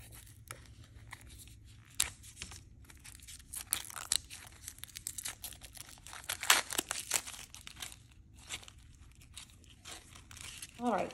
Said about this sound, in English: So take this plastic off.